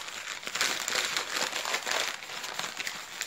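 Tape and bubble wrap being pulled off a package, a busy run of close crinkling and crackling with brief rustles, continuous for a few seconds without speech.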